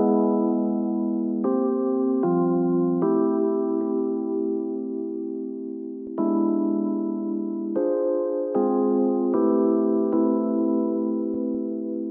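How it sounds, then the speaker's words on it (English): Lounge Lizard electric piano plugin treated with EQ and delay, playing a mellow sustained chord progression with soft warm changes every second or so, steady and alone with no talking. "I just took Lounge Lizard, a great electric piano plugin, really recommend it. I put some EQ over it, some delay"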